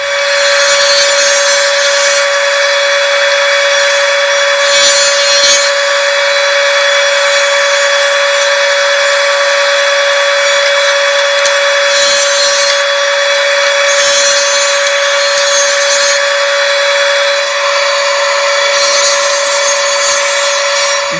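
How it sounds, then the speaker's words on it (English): A drum sander steadily flattens glued walnut, cherry and maple segments for a turned vase, giving a loud continuous motor whine with a rough rubbing hiss that swells in recurring passes. "I'm going to run them through the drum sander here, get them flat"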